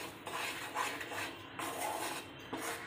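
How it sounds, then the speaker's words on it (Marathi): Milk powder peda mixture is stirred steadily in a pan, producing a continuous scraping, rubbing texture with periodic louder strokes of the spoon against the metal, close and without talk. "आणि व्यवस्थित असं हे असं व्यवस्थित ढवळून घ्यायचं"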